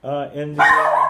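A dog barks in the background during a live online class conference, two or three loud, close yelps and a drawn-out bark following quickly on one another while a voice talks briefly.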